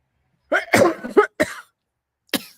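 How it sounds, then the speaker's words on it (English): A few harsh coughs in quick succession from one nearby person, then a short pause and one more softer cough. "Sorry, I got the cough."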